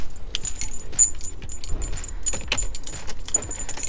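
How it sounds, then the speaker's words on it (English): A key rattles and jangles in the ignition of a Ford Transit Connect van, a close run of metallic clinks and scrapes as it is turned. "by turning the ignition on"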